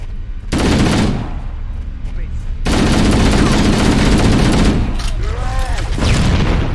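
Heavy automatic gunfire and explosions rattle through a firefight in the Halo video game. The loud, dense bursts are nearly continuous and come in two long waves with a brief lull between them.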